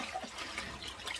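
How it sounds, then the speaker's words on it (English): Turnip and mustard greens being swished in sink water, a brief faint stretch of close splashing and trickling. "This is the way we wash our greens, even when we don't want to."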